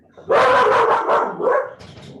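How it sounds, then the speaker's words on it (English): A dog barks loudly and close by at home during a Zoom meeting, a couple of sharp yelping barks in quick succession, with no talking. "That's my dog."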